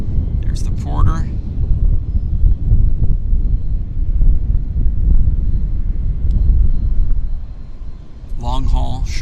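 A Porter passenger plane glides in to land on the north side of Vancouver YVR airport, its steady engine roar mixed with wind buffeting, while people chatter briefly at the start and end.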